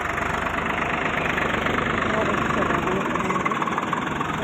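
A tractor engine runs while ploughing a field on a village farm in Assam, giving a steady, knocking mid-range drone that stays constant throughout, with some talk underneath.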